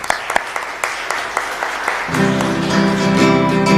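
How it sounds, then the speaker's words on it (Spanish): A mass congregation at San José Obrero parish in Asunción claps at the end of the service. It starts as scattered sharp claps, then music swells in and the clapping continues underneath it. "fuerte aplauso para todos ustedes"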